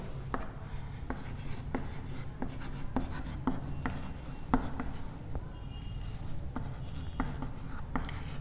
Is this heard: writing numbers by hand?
yes